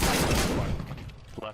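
XM1014 shotgun fire in Counter-Strike, a loud close blast that tails off over about a second, with a faint sharper report near the end.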